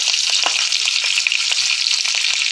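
Cumin and mustard seeds crackle and spit in hot oil for a tempering, a loud, close, continuous sizzle peppered with quick popping bursts and no one talking.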